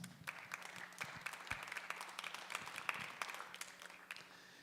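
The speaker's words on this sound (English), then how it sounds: "let's give Emily and Janine a round of applause" Audience at a natural bodybuilding competition in Tucson applauding, a fairly faint, continuous patter of clapping from a crowd with a low hum underneath.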